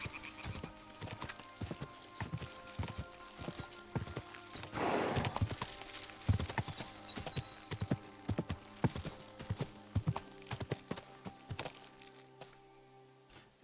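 Horse in the video game Kingdom Come Deliverance 2 moving at speed, steady rhythmic hoofbeats clip-clopping close by with a brief whinny midway, continuing under light game ambience until the hooves slow and stop.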